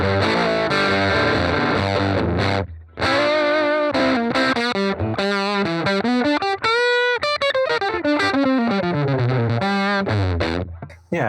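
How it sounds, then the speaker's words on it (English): Electric guitar played through a fuzz tone, thick distorted sustained notes and sliding phrases, loud and close with a brief gap midway, no talk. "it's more like almost like a fuzz"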